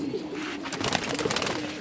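Indian Kaldom pigeons coo steadily nearby, a run of rolling low calls that overlap through the stretch, with a brighter flutter of activity in the middle and no talking.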